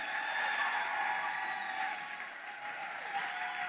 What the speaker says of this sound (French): On applaudit pour Israël, s'il vous plaît.